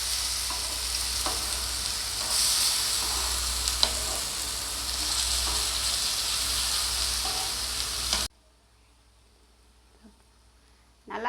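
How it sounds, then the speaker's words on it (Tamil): Brinjal slices fry in oil in a pan, a continuous close sizzle with occasional scraping stirs and flips, ending abruptly into near silence with a faint clink. "இது மாதிரி நம்ம நல்லா வறுத்து"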